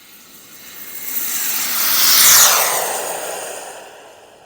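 A heavy RC turbine jet airplane flies past with a rising whine and roar that swells to a loud peak at mid-pass, then fades as it moves away, with no one talking.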